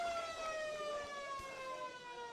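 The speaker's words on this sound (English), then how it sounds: "Oh, right on the siren too" A long siren sounds continuously at an Australian football match, a steady loud tone with gently falling pitch held for the whole moment, with no talk over it.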